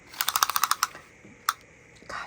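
A metal tape measure is pulled out to measure a jewelry chain, giving a quick run of about ten ratcheting clicks, then a lone sharper click and some soft handling noise.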